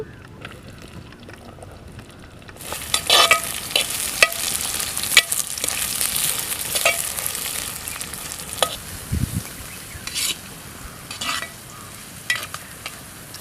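Onions and whole spices frying for gongura chicken, cooked outdoors on a hilltop in Araku Valley: a loud sizzle bursts in after a quiet start and carries on with scraping stirs and occasional clanks, wind faintly behind.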